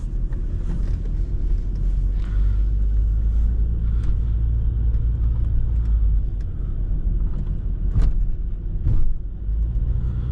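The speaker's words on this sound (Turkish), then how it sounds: "Şimdi bu araba 2006 model. Bir Jaguar" A 2006 Jaguar S-Type with a 2.7-litre V6 diesel, heard from inside while driving through Istanbul: a steady, loud low engine and road rumble runs throughout, with a few faint clicks and creaks near the end.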